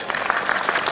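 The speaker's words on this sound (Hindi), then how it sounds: "बच्चों के लिए और उस्तादा के लिए तालियां" A small group claps for schoolchildren and their teachers at a school results event in Khokharzer, a brief burst of light, moderately loud applause with no talking.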